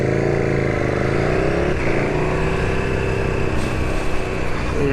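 The engine of a 2019 KTM Super Duke R holds a steady, loud drone after a downshift while riding round Cambridge, with a constant rumble and wind noise throughout.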